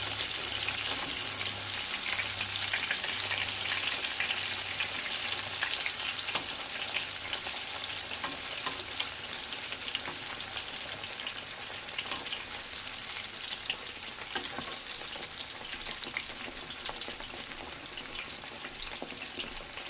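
Breaded beef cutlet, milanesa, fries in hot oil in a pan, a dense steady sizzle and crackle lasting the whole time, close and alone.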